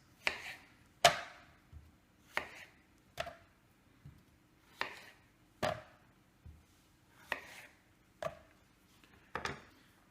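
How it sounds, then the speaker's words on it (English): Sharp knife chops land on a board at an uneven pace as vegetables are cut into chunks for juice, about a dozen crisp, close strikes separated by short pauses, with no voices. "I'm going to just cut this down into easier to manage chunks"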